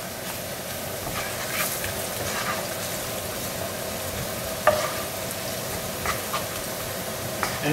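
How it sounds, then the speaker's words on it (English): Turmeric and other spices fry in a pan, giving a steady, moderately loud sizzle with occasional stirring scrapes and light clicks throughout. "Now we're going to cook these spices just for a minute."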